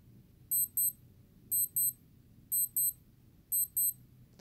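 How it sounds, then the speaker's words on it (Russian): A Casio G-SHOCK GA-2100SKE-7A digital watch alarm beeps in quick double chirps, four pairs at a steady one-second rhythm, high-pitched and thin over a quiet background. "Громкий будильник, от которого сложно не проснуться."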